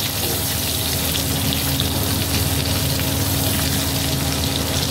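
Pointed gourd (parwal) bhaji with turmeric and salt sizzles in a pan, a loud, steady, hissing fry that continues unbroken throughout.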